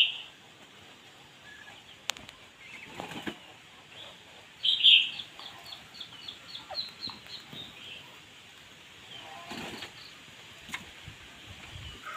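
A caged male pheasant, long-spurred, gives a short run of clucking calls near the middle, loud at first and then trailing off into softer repeated notes over a quiet outdoor background.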